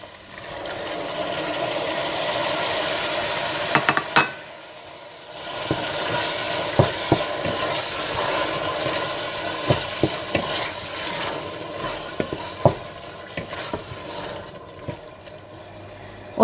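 Minced meat (keema) with tomatoes frying in a pan for keema chanp, a steady sizzle throughout with repeated scraping clicks of a spoon stirring, briefly dipping quieter around the fourth second, no talking.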